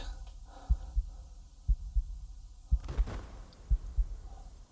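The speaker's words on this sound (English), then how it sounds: "they got the tense heartbeat pulsing sound in the back" A tense heartbeat sound effect in a music video thumps in steady paired beats, low and prominent, over a faint humming musical bed.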